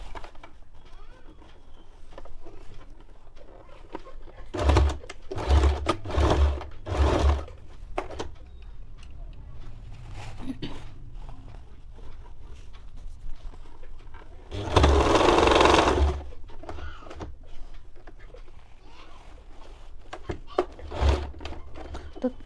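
A sewing machine stitching a fold on a silk top for a young girl, heard as a few short bursts of close mechanical whirring and clatter separated by pauses, with one longer, louder run in the middle.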